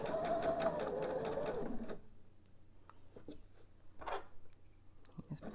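A sewing machine stitches quilt pieces along a quarter-inch seam with a fast, loud mechanical whir for about two seconds. After that, only faint handling clicks and fabric rustles are heard.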